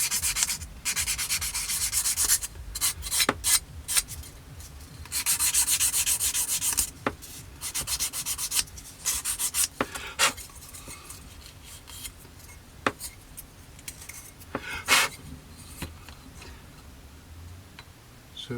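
Close, fine sanding of attachment points on a plastic part from a Tamiya 1/48 scale Bristol Beaufighter model kit: bursts of dry rasping strokes broken by short ticks and pauses, with no talk.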